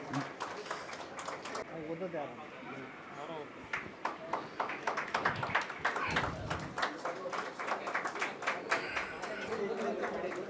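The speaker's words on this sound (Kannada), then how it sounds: "ಎಲ್ಲರೂ ಚಪ್ಪಾಳೆ ತಟ್ಟೋದ್ರ ಮೂಲಕ ಒಂದು ಕಾರ್ಯಕ್ರಮಕ್ಕೆ" At the opening of a World Photography Day event in Ilkal, an audience breaks into dense, ragged clapping that builds in the second half, mixed with voices talking over it.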